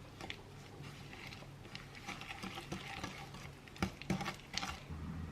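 Flour being stirred into banana bread batter in a bowl, producing a soft, steady scraping and patter with a few sharper clinks of the utensil against the bowl near the end, heard up close with no talking.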